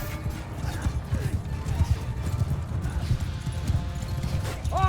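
Cavalry horses charge across a battlefield in the video game Mount & Blade 2: Bannerlord, a steady, dense clatter of many hooves with creaking and faint whinnies, continuous and fairly loud throughout.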